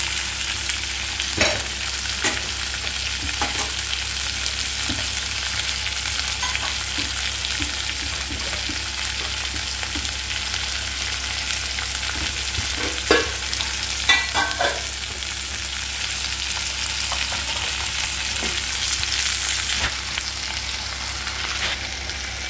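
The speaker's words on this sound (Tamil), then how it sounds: "இது வந்து இப்படியே நல்லா வதக்கிட்டே இருக்கும்." Sprouted peas sautéing in a pan for samba wheat rava kitchidi give a steady, close sizzle with scattered spoon scrapes and taps as they are stirred, and nobody speaks.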